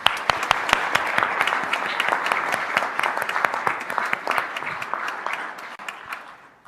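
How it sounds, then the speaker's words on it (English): Loud, close applause from the audience at a Washburn University employee recognition ceremony, dense crisp claps with sharp individual hand hits, fading toward the end. "Let's give them a round of applause"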